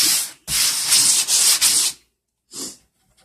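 A wooden cabinet door gets light hand sanding, heard as close, loud rasping strokes in quick succession, then a pause and one shorter final stroke, with no talking.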